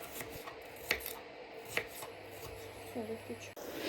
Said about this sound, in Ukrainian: Ріжемо одну цибулину.